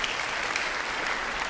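A church congregation claps together in steady, dense applause that fills the room, heard briefly without talk.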